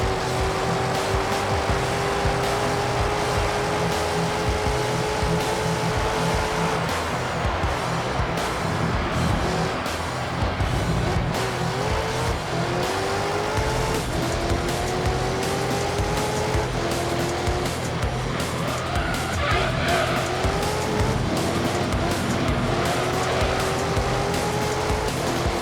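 Panoz Esperante GTR-1 race car in Gran Turismo 3, its engine holding a steady loud drone with rising revs through gear changes, brief tire squeal, and no one talking.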